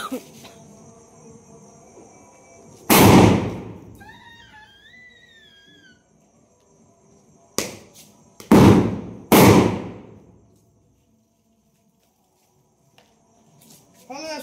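Firecracker bombs launched into the sky at a fireworks display go off in three loud, sharp bangs, each trailing into a decaying rumble, with faint whistling and a voice briefly heard between blasts.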